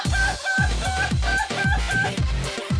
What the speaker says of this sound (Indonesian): Kalian bisa bedakan dari suara kokoknya.